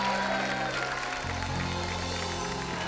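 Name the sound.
studio audience applause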